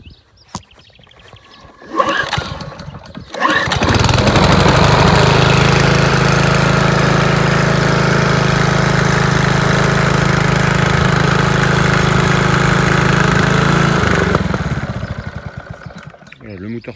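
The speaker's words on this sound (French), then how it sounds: "le moteur tourne rond sans difficulté particulière" A Honda HRB475 petrol lawn mower engine sputters, catches and settles into a loud, steady idle for about ten seconds before cutting out.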